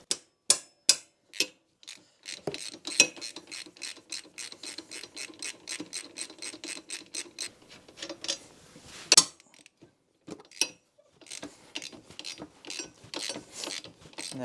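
Ratchet with a 14mm socket clicking rapidly in bursts while removing two bolts on a Yamaha Warrior 350 ATV, close and crisp, with short pauses between runs of clicks.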